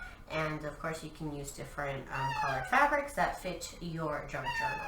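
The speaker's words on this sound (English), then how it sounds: "Sorry about my cat crying." A cat meows and cries repeatedly close by while a person keeps talking over it.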